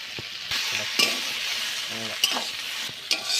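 Taro leaves being stirred with fried shrimp in a hot pan, a steady sizzle with repeated scraping strokes of the spoon at an even rhythm, close and clear with no talk.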